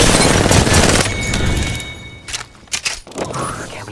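Gunfire in the video game Apex Legends: a dense, loud volley of shots that fills the first seconds, then thins into scattered sharp cracks and thuds at varying distances.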